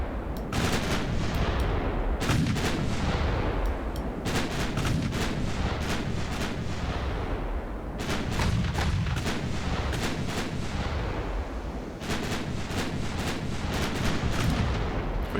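Warship artillery in the naval game Ultimate Admiral Dreadnoughts booms in repeated heavy salvos, each cluster of sharp reports followed by rumbling decay, loud and dense for the whole stretch with no talking.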